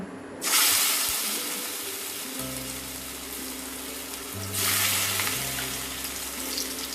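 Bora fritters of pumpkin, rice flour, onion and green chili fry in a hot wok, bursting into loud hissing sizzles as batter drops in, with a second surge partway through over a steady crackle.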